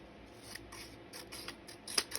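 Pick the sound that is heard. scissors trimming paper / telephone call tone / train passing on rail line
scissors trimming paper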